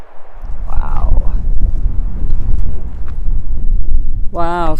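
Strong wind gusting around rocks at Barker Dam in Joshua Tree National Park, a loud low rumbling buffet across the microphone, with brief voices calling out over it.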